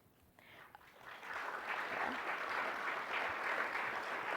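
An audience at a presidential plenary session applauds an award winner, the clapping starting thin and then swelling after about a second into steady, sustained applause that fills the room.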